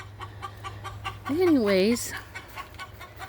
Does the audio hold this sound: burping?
no